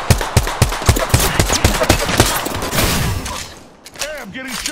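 Gunfire in a video game shooter: rapid bursts of loud automatic shots crackling in a fast rhythm for several seconds, fading into scattered echoes and game effects as a voice speaks near the end.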